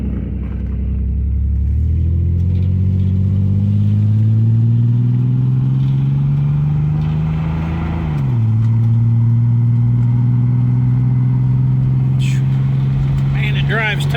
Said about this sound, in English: it drives totally different with them shocks changed on the front.